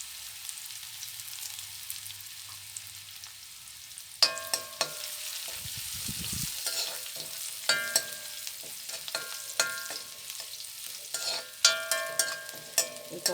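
Onions and curry leaves hit hot oil in a pan for bitter gourd thoran, starting a steady sizzle partway through, with repeated clinks and scrapes of stirring over the frying.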